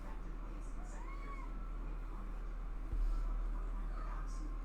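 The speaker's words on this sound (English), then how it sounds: "My cat." A pet cat meows twice softly indoors, a faint rising-and-falling call over low room hum, followed by a soft thump.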